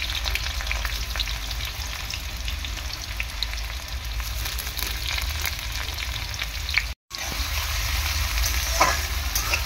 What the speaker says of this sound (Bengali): এখন আমি দিয়ে দিচ্ছি পেঁয়াজ। পেঁয়াজটাকে প্রথমে ভালো করে ভেজে নেব আমি।